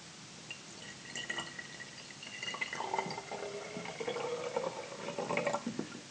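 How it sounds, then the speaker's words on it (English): Liquid, 200 ml, poured into a glass conical flask in a school science demonstration, giving a steady trickling and dripping splash that rises slightly in pitch as the flask fills, moderately close and heard alone. "what I'm going to do is I'm going to pour this now into a conical flask"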